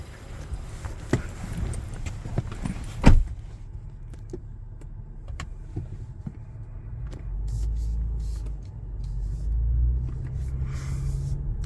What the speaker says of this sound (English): let's pop in the truck and see what we can find.